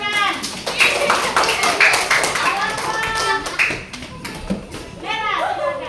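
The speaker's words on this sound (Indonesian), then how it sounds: "tepuk tangan" Children in a classroom clap their hands in a quick rhythmic pattern, close and lively, with children's voices mixed in among the claps.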